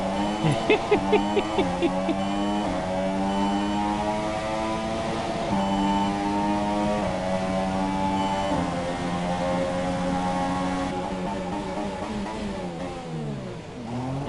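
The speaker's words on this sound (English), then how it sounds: "Makes your car go pop, pop, pop instead." A Renault Formula 1 car in the F1 2017 racing game at the Baku Azerbaijan Grand Prix gives a rapid burst of exhaust pops, then a loud sustained engine whine that rises and falls through gear changes.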